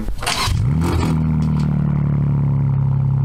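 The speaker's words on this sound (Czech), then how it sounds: "bychom si možná mohli poslechnout zvuk toho auta konečně" A car engine cranks with a brief rattling, scraping starter burst, then catches and revs before settling into a loud, steady hum.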